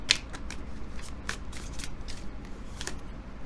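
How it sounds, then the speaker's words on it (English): Tarot cards are shuffled by hand in a steady run of crisp riffles and flicks, close and fairly quiet, with no talking. "Let's draw just a few more tarot cards."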